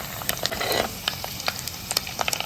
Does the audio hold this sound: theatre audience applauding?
no